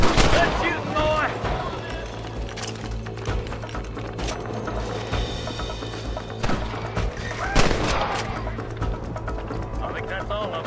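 Shootout with rustlers in the Western game Red Dead Redemption: dense, continuous gunshots and galloping hooves with a steady low rumble, plus a few louder bursts, all under shouted in-game voices.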